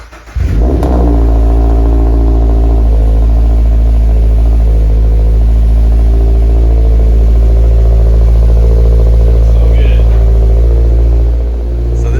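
A Toyota GR86 engine with a new aftermarket cat-back exhaust cranks and catches, then settles into a steady, loud, deep idle that rumbles on close by for the rest of the clip.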